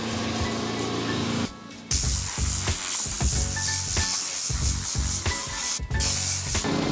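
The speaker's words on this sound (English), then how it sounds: "So this is how I clean my mats. I spray the Swift down." Repeated short hissing sprays of cleaner from a trigger bottle onto car floor mats, interspersed with soft rubbing and scrubbing sounds, close up with no talking.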